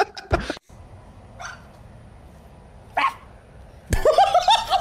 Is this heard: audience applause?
no